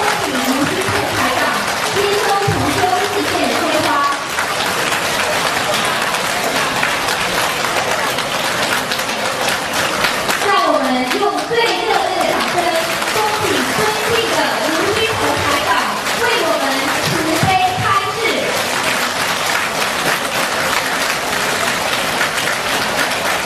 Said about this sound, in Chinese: 让我们用掌声恭请卢军宏台长